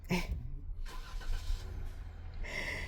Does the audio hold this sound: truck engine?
yes